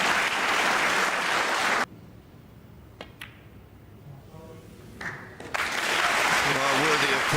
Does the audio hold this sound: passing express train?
no